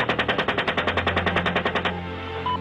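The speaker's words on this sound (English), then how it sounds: "shoot people with hollow 30mm bullets that are designed to penetrate armored vehicles and tanks" A 30mm helicopter cannon fires one long burst of evenly spaced rapid shots, loud and rhythmic, and the burst ends abruptly into a fading, ringing tail.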